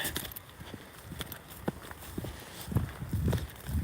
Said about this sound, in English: And my footsteps, I suppose.